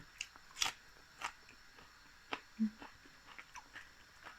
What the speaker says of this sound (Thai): คนมักกระเทียมนะพี่น้องเนี่ยเอาสดมากิน